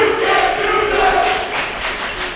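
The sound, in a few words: basketball crowd heckling a player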